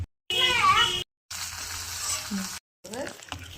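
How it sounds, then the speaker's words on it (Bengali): Hot oil hisses and sizzles in a few loud bursts as it is poured onto chutney, separated by short silences, close up, with a faint mewing sound in between. "তেলটা ওই চাটনিতে দিয়ে দেবো"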